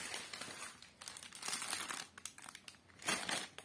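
Vegetable peels go into a plastic bag for the freezer, crinkling and rustling in irregular bursts for several seconds, close and fairly quiet, with no talking.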